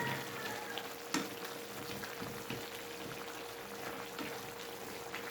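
Beefsteak with its sauce cooking down in a pan, a quiet steady sizzle broken by a few soft scrapes and taps as it is stirred, no talk.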